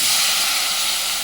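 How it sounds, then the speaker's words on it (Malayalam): A loud, broad hiss of steam as water is poured into a hot pan of fried spices for a mango curry, filling the whole short moment without any talking. "കുറച്ച് വെള്ളം ഒഴിക്കും"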